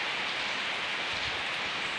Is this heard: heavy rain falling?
yes